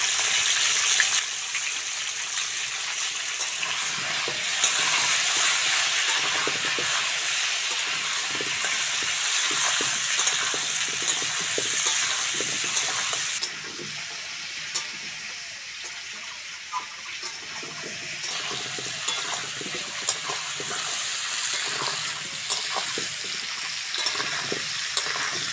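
Washed new potatoes with a little turmeric sauté in a hot pan for aloo dum, giving a steady, loud sizzle and crackle throughout, with occasional stirring scrapes and no talking.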